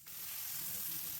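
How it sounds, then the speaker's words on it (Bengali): Spices including chilli paste, turmeric powder and salt frying in a pan, a soft continuous hiss of sizzling oil, close but fairly quiet, with no talking. "এখন মশলা ভাজা হইলো।"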